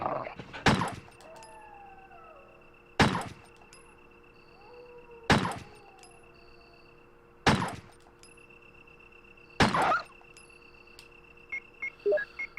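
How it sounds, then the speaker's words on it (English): Dogs in the video game Resident Evil give five evenly spaced loud barks or yelps over a quiet electronic hum, followed by a few softer short yips at the end. "Dogs."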